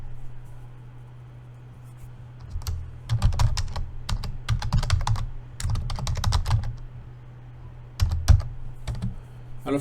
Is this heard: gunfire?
no